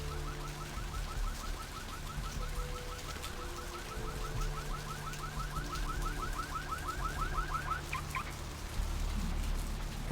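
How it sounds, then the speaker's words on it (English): An alarm rings in Vampire The Masquerade Bloodlines: a rapid, steady run of warbling chirped tones repeats for several seconds over a low ambient hum, then breaks off near the end. "Where's that alarm coming from?"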